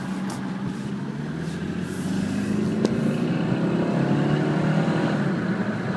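Engine of a 2000 Saab 9-5 four-door turbo heard from inside with the window down while driving, a steady drone that grows louder partway through as it pulls up, along with road and wind noise.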